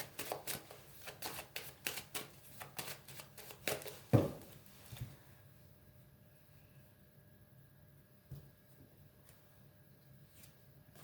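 Playing cards handled in a quiet room: a run of light flicks and taps as a card is drawn from the deck and laid down, one sharper slap, then near silence with a few faint clicks.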